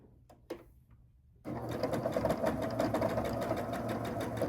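After a few faint clicks and taps, a sewing machine starts and runs steadily and close, stitching through a thick quilt block of fabric that begins on a leader.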